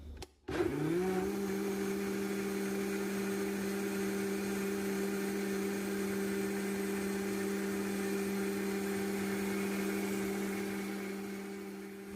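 A blender whirls watermelon agua fresca in a steady, loud, even drone after a brief start-up, running alone without pause for about twelve seconds before easing slightly at the end.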